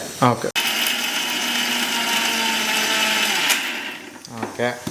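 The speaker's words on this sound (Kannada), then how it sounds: "ಸೊ ಇದನ್ನ ಗ್ರೈಂಡ್ ಮಾಡ್ಕೊತೀನಿ" Mixer grinder grinding spices and sambar powder for a leafy-greens curry, a loud, steady electric whir running continuously for several seconds, with brief speech just before it starts and again as it winds down.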